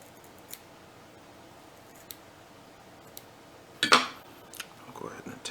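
Small scissors snip thread ends on a Clouser fly being tied, a few faint isolated clicks followed by a sharper close snip and some light handling rustle.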